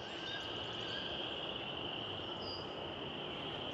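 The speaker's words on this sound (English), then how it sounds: "Just wanted to give you a listen to the frogs" A dense, steady chorus of frogs trilling and peeping at a distance at dawn in a spring forest, continuous throughout, with a faint high insect-like hum over it and no voices.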